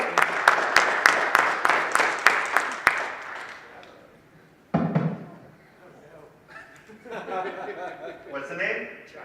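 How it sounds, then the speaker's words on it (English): A short burst of sharp, fairly close clapping from a small audience greeting a volunteer, fading out after a few seconds, followed by a thump, then chuckles and talk. "give him a round of applause, everybody"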